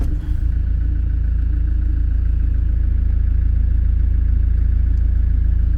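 A car engine is started and settles into a steady, loud idle, a close low rumble with light clatter that holds evenly throughout.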